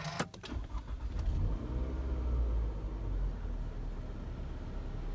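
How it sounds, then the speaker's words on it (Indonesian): A second-generation Toyota Alphard starts up: a few clicks, then the engine catches into a low, close rumble that settles into a steady idle, with no talking. "kita nyalain mobilnya dulu ya"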